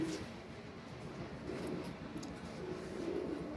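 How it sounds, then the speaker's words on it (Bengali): Soft, low cooing from caged Giribaz pigeons murmurs steadily throughout, a continuous gentle throaty rumble with no talking. "আমি গিরিবাস কবুতর রেখে দেখাই তাহলে বুঝতে পারবেন"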